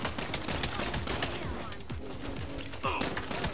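Gunfire crackles through a Saints Row video game, with dense, rapid shots and impacts layered over busy game noise, sustained and fairly loud throughout.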